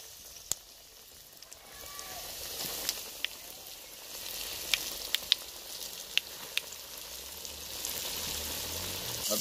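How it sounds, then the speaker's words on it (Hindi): Chicken drumsticks fry in oil for a homemade KFC-style village recipe. A soft, continuous sizzle is heard with scattered sharp pops and crackles throughout, and no talking. "बाद दोबारा फ्राई करेंगे"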